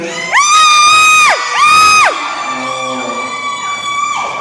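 Dance-game crowd at a Toyota Ayutthaya dealership event lets out two loud, sustained whoops and shouts, then settles into a lower, steady background murmur of cheering.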